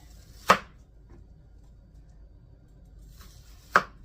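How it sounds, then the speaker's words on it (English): A knife cuts a red onion on a cutting board: two separate sharp chops, spaced about three seconds apart, close and distinct against a quiet room. "We're going to cut up a red onion."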